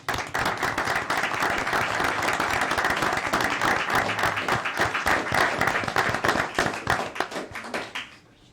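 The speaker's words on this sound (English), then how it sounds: "Let's give them a big round of applause." An audience at a mayor and council meeting breaks into steady, dense hand clapping that holds for several seconds, then tapers off.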